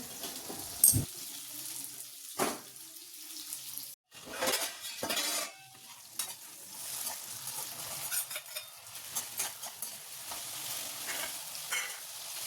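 Chopped tomato is added to potatoes frying in a pan, with a steady sizzle broken by a few sharp clanks and scrapes of a utensil stirring against the metal pan.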